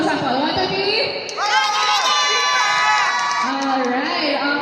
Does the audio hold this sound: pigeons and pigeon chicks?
no